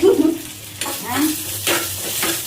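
Onions sautéing in a pan for a traditional Tamil kara kuzhambu, a close sizzle broken by several sharp stirring scrapes at a loose, uneven rhythm.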